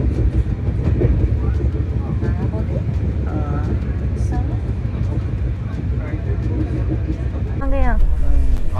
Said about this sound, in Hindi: ये कौन सी ट्रेन है? महाबोधि है।